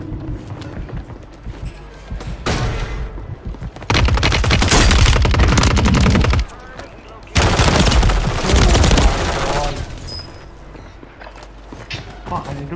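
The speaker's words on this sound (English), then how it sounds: "there's a team here also that's shooting" An enemy team fires guns in an online shooter video game. Two loud, dense bursts of rapid gunfire, each lasting a few seconds, stand out between quieter stretches of game noise.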